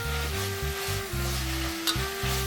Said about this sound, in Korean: 이제 잘라놓은 고사리를 넣고 양념을 섞어주세요. 고기도 넣고 함께 섞어주세요.